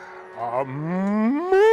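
Young heifers moo on Andre's farm in Estonia: one close, loud, drawn-out call that rises steadily in pitch and swells at the end.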